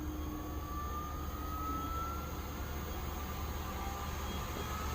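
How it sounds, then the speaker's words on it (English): A fan runs with a steady, dense whoosh and hum, holding a constant loud drone with a faint rising tonal whine as it throttles up toward full rate, with no talking. "You can hear the fan now throttling up into full rate."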